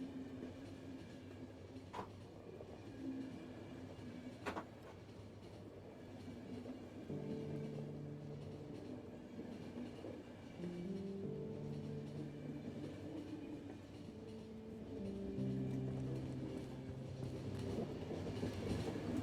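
A train rolls along in the video game Final Station, a steady rumbling run with rhythmic wheel clicks and tonal hums shifting over time, moderately loud with no talking.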